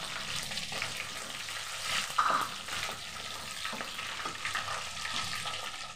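Potatoes tipped into a pan of fried flat beans bring a dense, even sizzle and crackle, with one louder clatter midway and soft stirring sounds around it, no speech.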